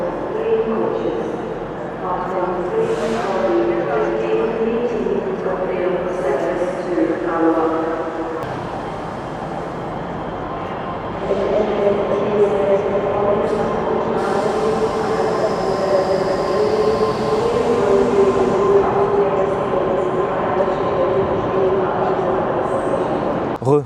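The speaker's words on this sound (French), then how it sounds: "Glasgow Queen Street qui est juste là. C'est la deuxième grande gare de Glasgow." Trains idling and moving at Glasgow Queen Street railway station, a steady loud rumble of rail traffic with a brief squeal, heard under someone talking close by.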